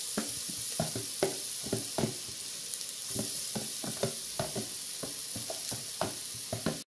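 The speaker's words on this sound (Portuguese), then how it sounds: "Botar mais um pouquinho de alho, só tava a cebola dourando." Onion and garlic sauté in a pan, a close, steady sizzle broken by repeated scraping stirs at an uneven pace, with no one speaking.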